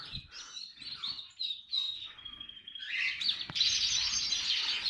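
Pet canaries chirp and trill in quick, bright bursts at close range, their song growing fuller and more continuous toward the end, with no talk.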